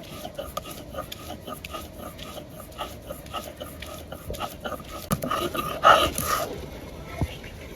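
Coconut and leaves ground by hand on a stone, making steady, rhythmic scraping strokes at close range, with a few clinks and a louder scrape near the end over a quiet background with voices.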